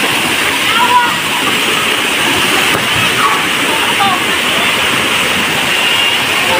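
Steady broadband rush of Kaigangan Falls, a waterfall in Esparar, Barbaza, Antique, close and continuous for the whole stretch, with faint splashes and a voice speaking over the water.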